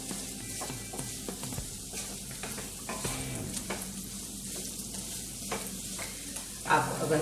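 Pieces of coriander vadi, a Maharashtrian kothimbir snack, shallow-fry in oil with a constant close sizzle and bubbling, under repeated scraping and stirring from a spatula that gets louder near the end. No one speaks.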